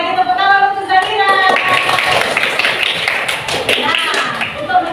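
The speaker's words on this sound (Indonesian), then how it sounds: "Sekali lagi tepuk tangan untuk Zahira" A classroom group claps for a student, brisk, close, uneven hand clapping with some thumps, under overlapping voices for the whole few seconds.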